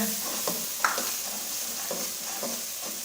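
Red chili and salt stirred and frying in a pan for a guar bean and mutton curry, with a steady close sizzle and soft scraping strokes of the spoon, no talking.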